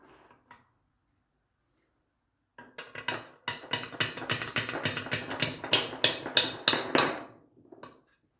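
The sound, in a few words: hammer tapping out a part during Triumph TR6 gearbox rebuild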